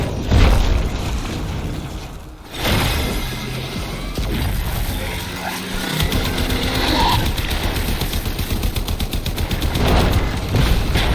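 Dense, sustained gunfire and crashing impacts from a boss fight in the video game Warframe, with loud bursts and booms layered continuously throughout, including a brief dip before the barrage resumes.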